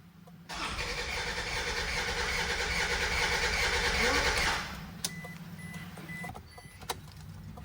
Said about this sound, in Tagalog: hard starting po talaga muna yan bago umandar mga boss